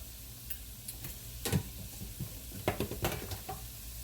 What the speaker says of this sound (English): So we're going to fry them like that.